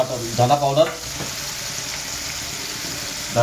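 Spices such as turmeric and red chilli are added to pav bhaji vegetables sizzling in a pan, giving a steady soft frying hiss under a brief spoken voice.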